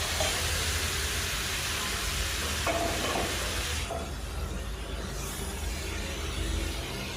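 Chicken meat hits already fried onions in a hot pan for a Bengali chicken kosha, giving a loud, steady hiss of sizzling with a few stirring clatters and a sudden surge partway through.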